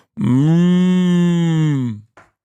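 A human voice imitates a cow's moo, one long, loud, steady lowing call of about two seconds, alone, ending in a short breathy tail.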